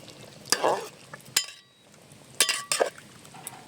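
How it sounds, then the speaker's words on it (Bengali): A spoon stirs chicken with meat masala and garam masala in a hot pan, giving a few scraping, clinking strokes against the metal over a soft sizzle, separated by short quiet pauses. "মিট মশলা দিয়ে দিচ্ছি, আর দিয়ে দেবো গরম মশলা, দিয়ে একটু নেড়ে চেড়ে নিচ্ছি"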